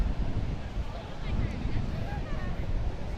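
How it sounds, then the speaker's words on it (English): A brisk, cool southwest wind blows across the Atlantic Ocean beach at Smith Point County Park on Long Island, roaring steadily against the microphone over the low wash of surf. "the wind is brisk"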